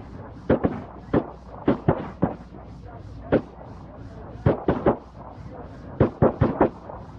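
Bursts of assault rifle fire crack out during a police shootout, single shots and quick doubles scattered irregularly across the span, loud and sharp over a low background hiss.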